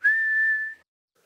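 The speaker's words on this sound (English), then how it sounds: "You're making a funny sound. I'm whistling." One steady, clear whistled note from a person, held for nearly a second and then stopping, close and alone with no talk.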